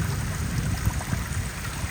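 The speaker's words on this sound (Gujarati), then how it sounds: "ઠેઠ ઘરમાં અંદર પાણી થઈ ગયું જોઈ લો" Rainwater pours into a house during a heavy downpour, heard as a steady, close rushing and trickling of flowing water with low gurgles, unbroken and free of talk.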